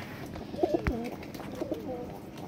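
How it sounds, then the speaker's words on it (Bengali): A pair of neck pigeons coo nearby in two short bursts of throaty, wavering calls, separated by a soft thump, over a quiet background. "অনেক সুন্দর একজোড়া আপনার গলা কবুতর ডাকতেছে"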